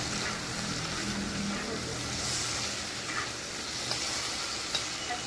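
Potatoes fry in oil in a pan, a soft, even hiss held low and steady throughout with a few faint clicks from the pan. There is no talking.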